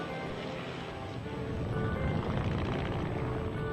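Army aircraft flying in formation at a 1997 seaside carnival airshow produce a steady, distant propeller drone that grows slightly louder as they approach, with no talking.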